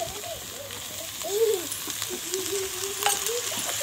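Cauliflower sizzling and frying with spices in a pan, with a spoon stirring and scraping now and then, close up.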